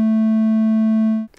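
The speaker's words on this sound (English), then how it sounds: "triangle wave," A steady, slightly buzzy synthesized triangle-wave tone holds for just over a second, then cuts off abruptly into brief faint noise.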